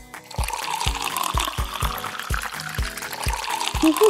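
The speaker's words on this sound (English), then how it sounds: "make sure the water doesn't get on the floor!" Water poured into a toy baby doll's bubble bath, a continuous splashing gush at close range with a run of regular hollow knocks beneath it, rising slightly toward the end.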